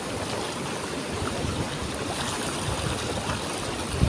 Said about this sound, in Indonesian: ini ombak laut Samudra Hindia